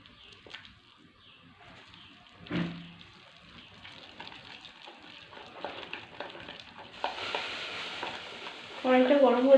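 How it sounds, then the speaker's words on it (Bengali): Gram flour batter is stirred with water in a bowl, giving soft wet scraping and swishing strokes, quiet at first and growing louder and busier toward the end, with a knock early on. "এবারে জল দিয়ে এটাকে পেস্ট করব।"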